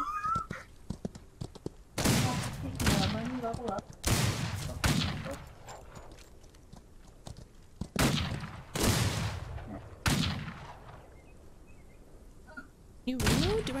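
Gunfire in the Old West video game Outlaws of the Old West, with several loud separate bursts of shots spaced a few seconds apart, and quieter stretches between them with voices talking.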